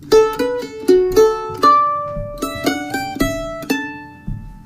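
A guitar plays two bars of a melodic phrase as a string of distinct plucked notes. Each note rings and decays, and the notes land at uneven, unexpected points in the rhythm.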